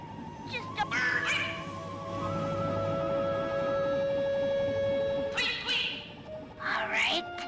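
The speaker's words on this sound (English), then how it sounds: "I'll make a bird call through the grapple cam speaker" Chirpy bird-call sounds played through a grapple cam speaker in the stealth game Sly 3: Honor Among Thieves, a few short warbling bursts near the start and again toward the end, with talk in between.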